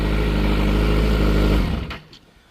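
A 2011 Kawasaki Ninja ZX14 fitted with a loud aftermarket exhaust idles with a deep, steady rumble close by, then shuts off abruptly, leaving a few faint clicks behind.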